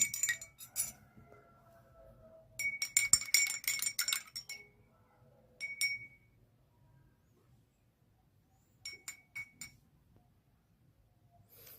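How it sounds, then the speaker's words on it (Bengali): Water being stirred in a glass to dissolve neem soap, with bursts of bright clinking as a spoon strikes the glass sides, separated by quiet pauses. "তো জলটা আমরা একটু গুলে নিচ্ছি।"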